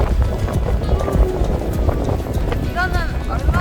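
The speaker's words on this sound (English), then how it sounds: "It's very windy today." Strong wind buffets a ferry deck on a New York harbor crossing, a loud continuous roar with rumbling gusts, while people talk nearby.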